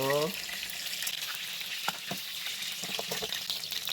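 Meat for adobo frying in a pan before braising, a steady close sizzle with scattered pops and crackles throughout, opening with a brief tonal clatter at the start.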